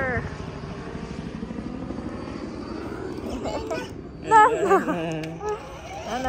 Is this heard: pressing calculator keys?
no